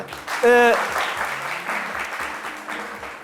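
Studio audience applause on a French midday talk show: a short bright tonal whoop, then a steady wash of clapping that carries on loudly for several seconds.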